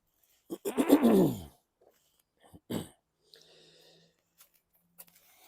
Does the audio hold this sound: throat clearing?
yes